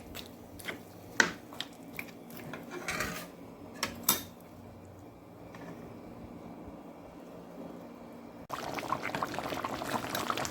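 Sweet potato and carrot tipped into a pot of boiling liquid for curry mutton, with a few sharp clinks and splashes early on, then a steady simmering hiss that rises louder near the end.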